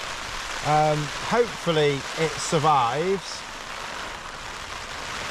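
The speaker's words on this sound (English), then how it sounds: "It seems to be holding back the rain" Rain falls on a DCF Duomid tent at a wild campsite, a steady dense patter on the fabric close around. Someone speaks over it for a few seconds, and then the rain continues alone.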